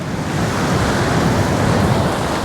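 Rough summer sea surf pounds steadily on a Bristol Channel shore, a loud, continuous close wash of breaking waves with wind noise buffeting the microphone.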